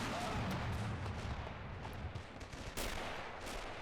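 A mortar barrage fires in a WW2 battle video game, with faint distant booms and crackling blasts over a noisy background rumble, one sharper report near the end.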